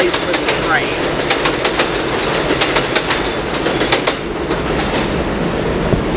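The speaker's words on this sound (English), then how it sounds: "here comes the train now" A train rolls past close by with steady rumbling and rhythmic clickety-clack of wheels over rail joints, loud throughout the stretch with faint wheel squeal above it.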